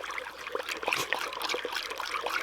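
Grain stirred around in a container of water for chickens makes soft trickling and sloshing splashes, close and moderately loud, in uneven bursts through the clip.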